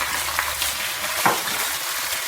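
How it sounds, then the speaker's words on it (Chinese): Garlic, dried chili and cabbage stems stir-fry in hot lard in a wok, giving a loud, continuous sizzle with a quick spatula scrape partway through. "下入蒜跟干辣椒炒香， 炒香下入白菜帮"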